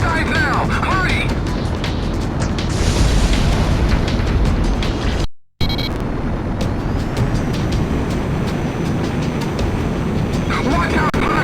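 Continuous loud roaring blasts and rumbling from the shot cannon superweapon firing in the flight combat game Ace Combat X, dense and sustained with a brief cutout midway, game voices mixed beneath.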